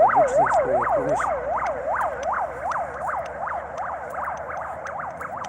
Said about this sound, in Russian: Обычная скорая помощь.